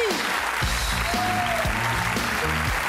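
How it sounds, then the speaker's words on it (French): A live comedy-show audience gives a full burst of applause for a comedian, steady dense clapping filling the whole moment, loud and close, with some talk and music underneath. "elle mérite un tonnerre d'applaudissements, mesdames et messieurs"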